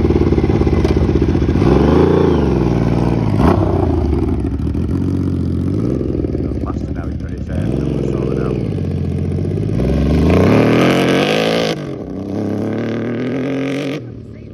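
A motorcycle fitted with a bullet muffler revs loud and close on a 2024 test ride, its engine note rising and falling in repeated throttle sweeps with some rattling, ending in a steadier idle.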